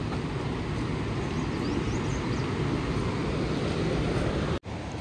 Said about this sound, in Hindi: तो ये देखो यहाँ से है वाटरफॉल